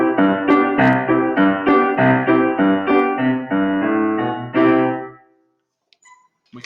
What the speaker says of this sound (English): a fast piece of music might sound like this